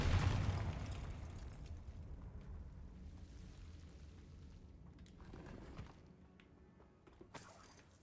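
A Confringo fire spell bursts in Hogwarts Legacy, a loud boom at the start that rumbles and decays over several seconds into a low, fading tail.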